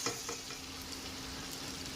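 Chicken curry with ground cashew paste and slit green chillies being sautéed in a pan, a soft continuous sizzle with light stirring scrapes, close but faint, no voices.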